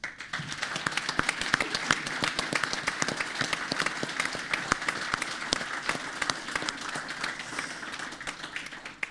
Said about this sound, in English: I think we should give Michael O'Sullivan a round of applause